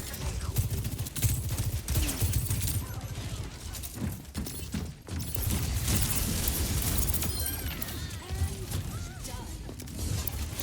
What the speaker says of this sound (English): Beautiful shooting out of Ryyan.